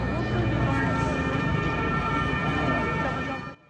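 A fire engine siren wails at a fire at the Paris opera house. It is loud and continuous, may have a voice under it, and cuts off abruptly at the end.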